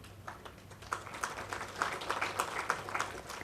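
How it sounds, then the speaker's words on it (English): An audience claps at a foundation day stakeholders meet, a soft, distant patter of applause that swells slightly midway and carries on steadily to the end. "Can we have a louder applause as we are beginning with the day, ladies and gentlemen?"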